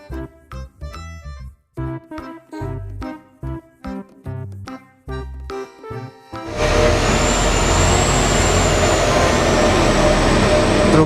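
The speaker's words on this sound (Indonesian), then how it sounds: "Truk dum." A dump truck gives a loud, steady broadband engine and road roar that starts abruptly after a stretch of music and holds for several seconds, with a thin high whine riding on top.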